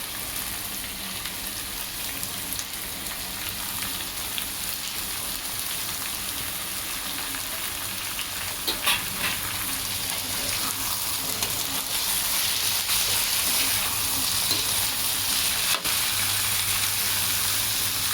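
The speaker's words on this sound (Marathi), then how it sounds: "भाजीला व्यवस्थित परतूया." Snake gourd (padwal) with dal sizzles steadily in a hot pan while being sautéed, a continuous close frying hiss with occasional faint stirring scrapes and no voices.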